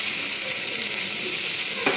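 Bitter gourd slices sizzle loudly and steadily in a pan on a home stove once the lid comes off, with a bright close hiss throughout and a brief clack near the end.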